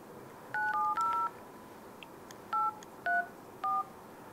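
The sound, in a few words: telephone being dialed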